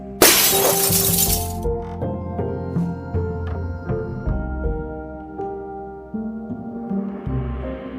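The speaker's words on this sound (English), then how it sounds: "The sound of breaking glass shattered the moment." A glass window bursts when a football smashes into it, one loud sharp crash at the start followed by ringing, tinkling shards over steady background music.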